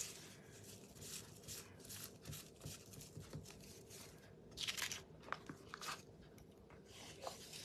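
Decoupage tissue paper being torn by hand, heard close and quiet as a run of soft crinkling rips and rustles with a few sharper tears, no voices.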